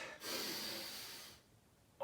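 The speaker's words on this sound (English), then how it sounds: "Breathe in from your nose." A long, steady inhale through the nose during a kids' at-home fitness warm-up, a soft airy hiss lasting over a second, then quiet before a brief new sound at the end.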